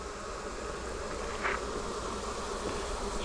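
Honey bees from a nucleus colony buzz steadily at a hive near a feeder, a dense, even drone that fills the space close by.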